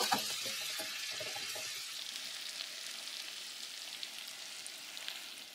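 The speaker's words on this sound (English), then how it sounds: "Now, while the apples are cooking down" Apples cook down in a pan, giving a soft, even bubbling sizzle that stays fairly faint, with a few light scrapes early on before it settles into a steady simmering hiss.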